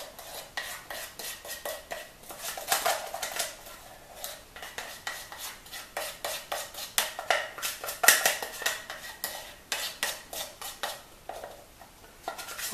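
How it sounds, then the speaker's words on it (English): Cake batter being scraped and dumped into a pan, with irregular rhythmic scraping, tapping and clinking of a utensil against the bowl and pan, fairly close and moderately quiet. "Now we're going to dump the cake into the pan."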